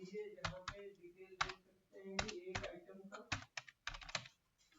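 Someone types on a computer keyboard in short bursts of close, crisp key clicks with brief pauses, entering a place name into ERP business software, with a faint voice murmuring underneath.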